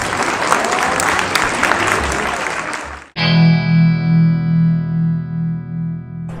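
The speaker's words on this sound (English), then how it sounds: "Ladies and gentlemen, let's give them another round of applause." Dense audience applause for the panelists at a panel discussion fills the first three seconds at steady volume, then stops abruptly as sustained tonal music takes over.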